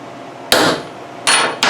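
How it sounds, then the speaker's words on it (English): Three sharp metallic taps of a hammer on a center punch marking a switch hole, close and loud, the first alone and the last two in quick succession, with quiet shop background in between. "I'm going to take a center punch and just mark this hole for the switch"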